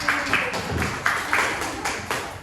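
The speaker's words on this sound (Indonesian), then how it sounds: "Tepuk tangan kepada kelompok 1" Classroom applause for a student group, several short bursts of hand clapping in a quick, uneven rhythm from a small crowd, moderately loud and without talk.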